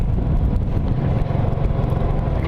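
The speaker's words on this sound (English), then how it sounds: "ride the Honda Pacific Coast" A carbureted 1990 Honda Pacific Coast motorcycle being ridden, its engine a loud, close, steady drone mixed with wind rush that holds without a break throughout.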